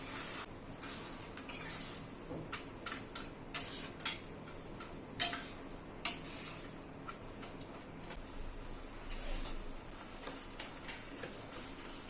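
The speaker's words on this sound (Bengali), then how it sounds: "ডালটা এবার মশলার সাথে ভালো করে কষিয়ে নেব।" Dal being stirred and fried with spices in a pan, with steady soft frying noise and a run of light scraping clicks and taps from the spoon against the pan, including a few sharper knocks.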